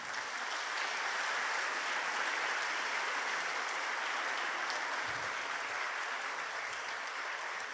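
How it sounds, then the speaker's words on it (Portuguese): A church congregation applauds for the Lord, a dense, steady wash of clapping held at even loudness for several seconds with no voices over it. "Então dá um aplauso bem bonito para o Senhor"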